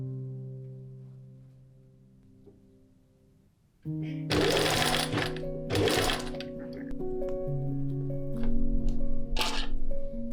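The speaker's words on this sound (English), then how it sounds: "Then I could sew the bodice together." A sewing machine stitches a liquid organza bodice, starting after a few seconds of quiet tonal background music and running in short bursts of rapid mechanical chatter over the music.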